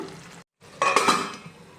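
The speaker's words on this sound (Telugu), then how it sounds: "మూత పెట్టేస్తున్నాను" A lid goes onto a pot of fish masala gravy, a short clatter of metal on metal after a brief silence, followed by a fading ring and a soft simmer.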